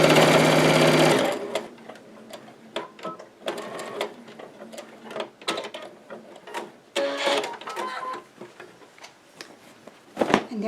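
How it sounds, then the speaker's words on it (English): A sewing machine stitches the straps of a fabric market tote, a loud steady whir for the first second, then scattered clicks, taps and short mechanical bursts as the fabric is handled and repositioned. "when you come to the corner that you unfolded, just tuck it back in and keep sewing"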